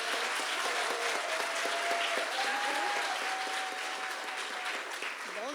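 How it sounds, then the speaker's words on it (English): An audience gives a steady, dense round of applause at a school gathering. The clapping is close and loud from start to finish, with a few voices calling out above it. "Let's give Samantha a round of applause."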